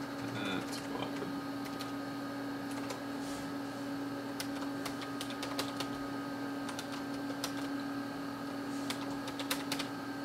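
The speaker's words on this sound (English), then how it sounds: "I can type on it." Typing on a Tandy 1000 computer keyboard in a word processor: scattered, irregular key clicks over a steady hum of machine noise, close and moderately quiet throughout.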